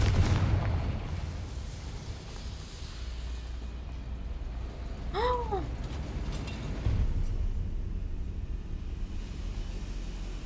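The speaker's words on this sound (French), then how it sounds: "Confringo" Confringo fire spell explosion in the game Hogwarts Legacy: a deep, rumbling blast at the start fades into a sustained low roar, with a brief bright whistling effect midway and a second soft boom later.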